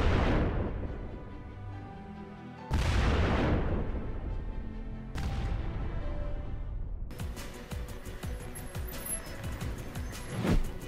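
Howitzer artillery fires in three heavy, booming blasts, each followed by a long rumbling decay, and then comes a dense, crackling spell of continued fire, all loud and close.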